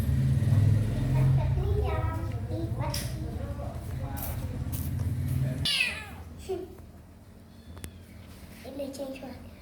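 A sad-looking kitten meows repeatedly in short, rising cries between stretches of people chatting nearby, with a low background rumble under the voices.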